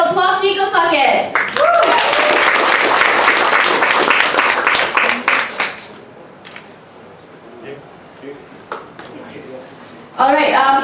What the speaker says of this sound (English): a big round of applause to Nickel Socket